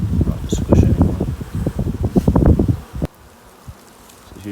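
Honeybees buzz loudly and close during a beehive inspection, a dense droning hum with wingbeat flutters and wind rustle for about three seconds before dropping to quiet background.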